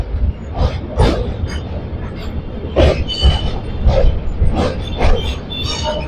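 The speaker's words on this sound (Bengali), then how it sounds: "বারোটা বেজে 18 ট্রেন ঢুকছে রামপুরহাট" A train pulls into Rampurhat junction with rolling wheel clatter and intermittent squeals and bangs of carriages, heard from on board at moderate loudness, with some faint voices in the background.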